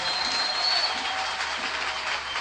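A church congregation applauds together, a steady broadband wash of clapping that holds at an even level from start to finish with no voices over it.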